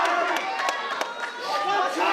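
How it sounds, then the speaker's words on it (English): A crowd at a KCMMA mixed martial arts fight murmurs and calls out in a steady noisy wash, with scattered shouts and claps rising above the indoor arena chatter. "You can hear the crowd saying that he's tired."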